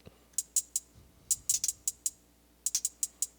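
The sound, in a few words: hi-hat sample played by Ensoniq ASR-10 triggered from FL Studio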